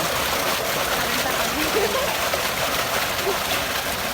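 Water from a village tubewell flows and splashes in a steady, loud, continuous rush close by, with no break in the sound.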